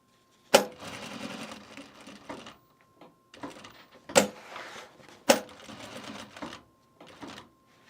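Sewing machine stitching fabric for a self-drafted bag, short bursts of rapid mechanical whirring separated by pauses and a few sharp clicks, close and fairly quiet with a faint steady hum between runs.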